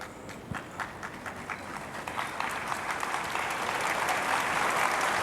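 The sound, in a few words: audience applause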